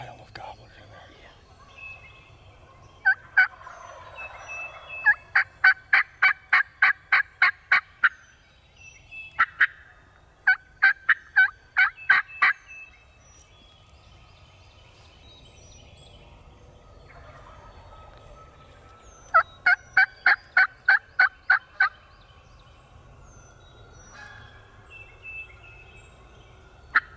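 Wild turkey gobblers call from a distance in several rapid rattling gobble bursts across the outdoor scene, with quiet whispered talk nearby between the calls.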